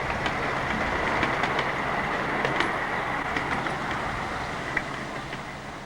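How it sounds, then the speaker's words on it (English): A Mardyke Minibeasts model USA-style locomotive runs along its track in a steady, continuous clattering rumble with faint rhythmic wheel clicks, close and unbroken throughout. "this USA-style locomotive is still running today in the same location"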